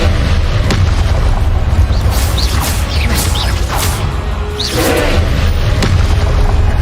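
Explosion from the Confringo fire spell in the video game Hogwarts Legacy, a loud continuous booming rumble with whooshing bursts of combat effects layered on top.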